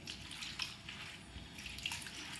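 Water sloshes and splashes softly as sliced potatoes are rinsed by hand, a close, quiet, continuous swirling with small drips.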